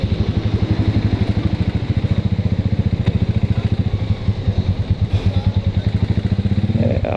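A motorcycle engine putters nearby in a fast, even rhythm, holding steady like an idle with a slight rev near the end.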